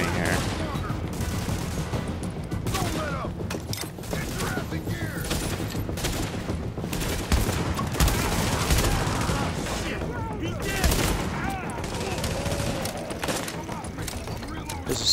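Rapid, sustained gunfire from a video game firefight fills the scene, with dense overlapping bursts and booms continuing throughout while a player talks over it.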